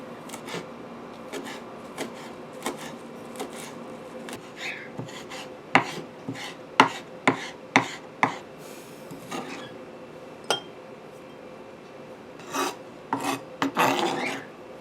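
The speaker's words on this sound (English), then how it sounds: "first thing you do is you chop it up super fine" Knife chopping fresh basil very finely on a cutting board, a steady series of close, crisp rasping knocks that quicken into dense bursts toward the end, with no talking.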